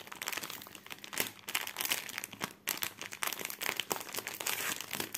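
A taped plastic package is pulled open close up, giving continuous loud crinkling and crackling with sharp tearing bursts and brief pauses, with no talking.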